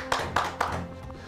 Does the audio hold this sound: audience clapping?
yes